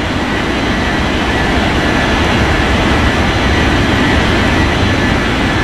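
A jet airliner taking off from a runway at Bengaluru airport, a loud steady roaring engine rumble that fills the whole stretch without letting up.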